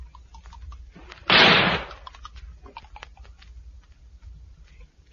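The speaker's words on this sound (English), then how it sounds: "I'm going to shoot the top of it." A single sharp gunshot rings out as a sound effect in a 1957 BBC radio drama of The Day of the Triffids, a brief loud crack with a short tail, standing alone against a quiet background.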